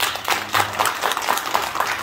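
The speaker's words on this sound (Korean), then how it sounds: "여러분 고생했다 박수 해줘" Applause from a gathered crowd at a Buddhist Dharma service in a Seon temple hall, a steady, fairly loud wash of many hands clapping for about two seconds with no talk over it.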